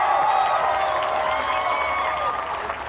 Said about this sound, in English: The fans cheer for Jimmy Wang from Taipei.